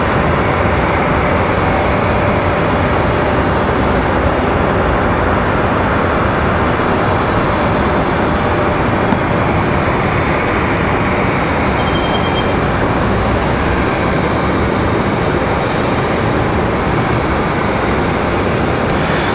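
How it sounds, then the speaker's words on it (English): An Airbus A220-300 airliner takes off from Raleigh-Durham International, its engine roar loud and sustained throughout, a broad steady rumble with no talk over it. "that A220-300 headed to San Diego, California."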